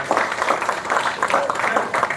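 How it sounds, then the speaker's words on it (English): A conference audience at the BIDA International Conference claps in a sustained round, with individual claps pulsing through a dense, moderately loud wash and a few voices mixed in. "Give a big round of applause"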